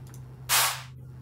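One sharp Sultan clap drum sample from an electronic track's drop cracks out as a bright burst with a short tail, over a faint low hum.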